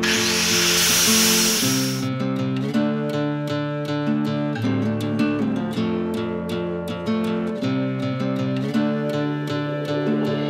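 A grinder fitted with a prep disc works over a rock crawler, a loud sustained whine with steady rhythmic pulses of the disc biting the metal, preceded by a short burst of harsh broadband hiss.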